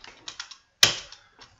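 Computer keyboard typing: a few light key taps, then one loud, sharp keystroke and a couple of softer clicks, close by with no talking.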